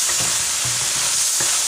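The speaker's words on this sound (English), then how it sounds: "let this dry roast for another 5 minutes" Whole spices, a cinnamon stick and crushed cardamom, dry roasting in a hot pan, giving a continuous bright hiss with soft stirring taps throughout, close and even.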